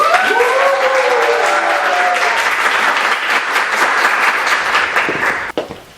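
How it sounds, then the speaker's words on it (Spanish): A TV studio audience gives a guest a big welcoming round of applause, loud dense clapping with a short rising whoop or cheer at the start, holding steady before tapering off at the end. "Por favor, démosle la bienvenida con un gran aplauso"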